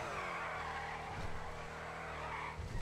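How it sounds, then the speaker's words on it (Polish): Mercedes S63 AMG drifting in GTA Online, with faint, steady engine roar and continuous tire skid noise sustained throughout. "Nawet fajnie się wchodzi w drift."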